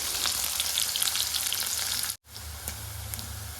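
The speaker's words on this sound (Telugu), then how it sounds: "ముందుగా కట్ చేసి పెట్టుకున్న ఆనియన్స్ను యాడ్ చేసుకొని ఫ్రై" Chopped onions frying in a pan for vada curry, a steady bright sizzle that runs throughout and drops out briefly near the middle before resuming just as strongly.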